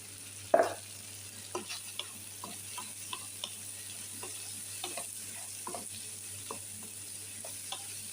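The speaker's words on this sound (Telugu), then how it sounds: "కొంచెం ఫ్రై చేసుకున్నాం." Chilli and spice masala with green chillies, black pepper and garam masala frying in a pan: a steady soft sizzle under scattered light clicks and taps of stirring, after one louder clatter at the start.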